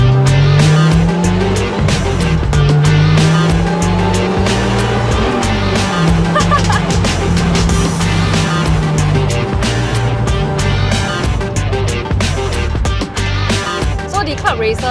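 A Lotus Exige S Club Racer sports car drives with a loud, continuous engine drone that rises and falls in pitch as it shifts, while a person talks over it throughout.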